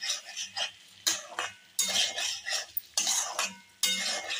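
Mango pieces are stirred in a cooking pot with a metal spoon, giving bursts of scraping and clinking roughly every second between short pauses, close and clear with no voices.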